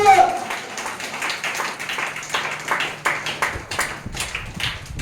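A worship gathering claps hands in praise of God, a steady run of sharp, rhythmic claps from a group with voices mixed in underneath.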